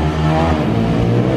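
Modified 190 motorcycle engine on gasoline revving hard and close, a loud, rough roar with rising pitch that holds steady for a moment.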